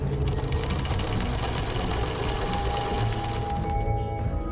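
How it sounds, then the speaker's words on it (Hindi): A sewing machine stitches in a fast, even mechanical rattle that keeps going without a break, then trails off at the end. "टीवी देखते हुए सिलाई मशीन पर सिलाई का काम करने"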